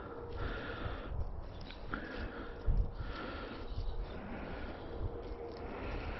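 A dog sniffs around close by outdoors, quick repeated snuffling bursts and a snort over a soft steady background, with no talking.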